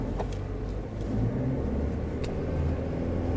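Inside a manual car creeping forward in first gear through a tight spot in traffic, a low engine rumble holds steady with a slight rise midway and faint clicks over it. No talking.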